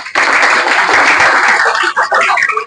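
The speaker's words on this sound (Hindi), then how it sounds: "ताली बजाओ इसके लिए" An audience claps at a student discussion session on exam preparation: dense, continuous applause that fills the clip and fades slightly near the end, with no talking over it.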